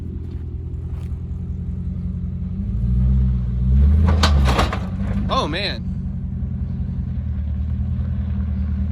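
A 500 HP Hemi-powered Jeep crawls over off-road terrain with a deep engine rumble that swells into a louder rev and clatter midway, while a person exclaims briefly.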